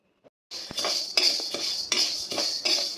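Lentils being stirred slowly in a thick iron kadai over low heat while roasting for ulavacharu powder, with repeated scraping and rattling strokes of a metal spoon against the pan, close and fairly loud, no talking.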